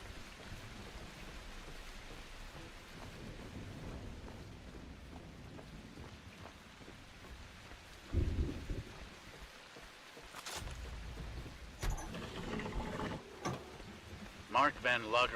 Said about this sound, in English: Raining outside, evidently.